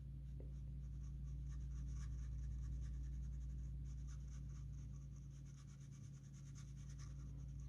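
Paintbrush strokes on paper during a travel drawing session, a continuous soft scratchy brushing with steady rhythm, close and fairly quiet, with no talking.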